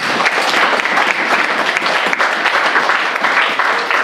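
A church congregation claps together during a French-language service, a dense, steady round of applause close by that holds for several seconds.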